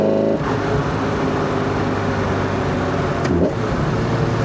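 Lotus Elise 340R engine held in fourth gear around 3000 RPM, a loud, steady, gritty drone heard from the driver's seat, with a brief dip near the start and another toward the end, no voices.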